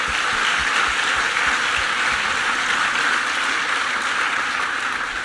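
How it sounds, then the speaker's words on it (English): An audience at a workshop gives a round of applause for the track leads: dense, even clapping from many hands that holds steady and loud for the whole stretch. "A round of applause for all 10 of them"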